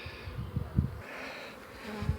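Buckfast honeybees buzz with a soft, high drone around a hive in the evening, while low thumps and handling noises of hive boxes being stacked come up close now and then.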